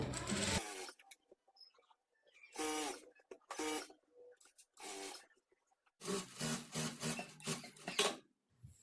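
A sewing machine stitches the double-folded side slit of a churidar top in short, quiet, intermittent runs separated by silences, ending with a longer stretch of stitching.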